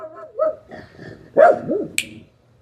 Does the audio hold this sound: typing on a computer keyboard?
no